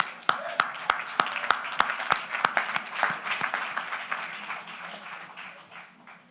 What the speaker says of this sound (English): So please, can we clap for them?